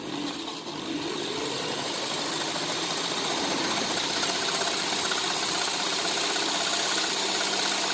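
A multi-stage wind generator spun up by an external drive gives a steady, buzzing mechanical whir with a rattling edge, holding constant and loud after a brief start-up.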